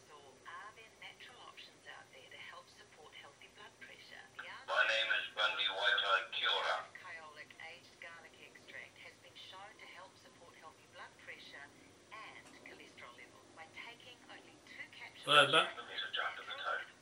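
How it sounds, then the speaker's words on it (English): A telephone ringback tone sounds during an outgoing call, in two distinct ringing bursts about ten seconds apart, with voices or radio chatter murmuring underneath throughout. "I'm just ringing Bundy up and hopefully he'll answer the phone"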